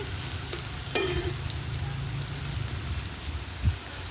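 Onions that have turned reddish sizzling in hot oil in a pan, a steady close crackle and hiss with a few clinks of a utensil, no voices over it.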